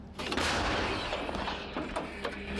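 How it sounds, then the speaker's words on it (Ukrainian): A CAESAR self-propelled howitzer fires nearby with one powerful boom, followed by a rumbling echo and some clanking mechanical noise. "Це самохідна артилерійська установка Цезарь."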